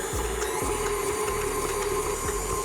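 Stand mixer with a paddle creaming butter and sugar, a steady loud whirring motor hum with a rhythmic low churning thump, running alone without talk.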